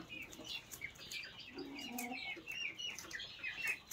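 Laying hens clucking softly at a distance, a few short rhythmic clucks mixed with faint chirps over quiet outdoor background noise.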